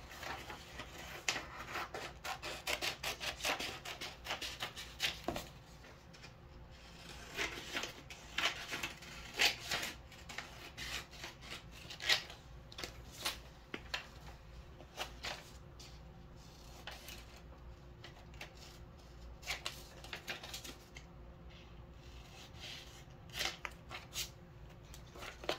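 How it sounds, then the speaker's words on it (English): Printed paper copies being cut with scissors and taped together, a quiet series of close snips, rustles and crinkles in irregular bursts. "because I printed out 2 copies of this, I'm going to cut it and tape it right in the middle"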